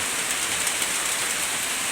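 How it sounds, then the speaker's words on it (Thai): Morning rain falls steadily outside a monk's dwelling, a dense, even hiss of drops with no pauses, close and fairly loud. "เป็นภาพบรรยากาศฝนตกยามตอนเช้า"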